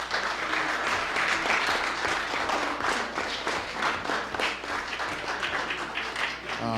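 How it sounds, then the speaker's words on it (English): Assistant coaches receive applause from an audience at an Essex freeholders presentation, a steady, dense clapping crowd that holds at a constant loudness throughout and includes faint voices mixed in. "Give them a round of applause, please."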